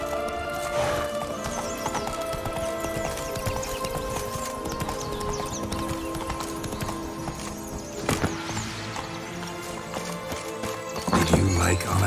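A horse gallops in the Witcher 3 video game with rapid, steady hoofbeats close by, joined by whinnies and neighing, with spoken dialogue briefly layered over the running near the end.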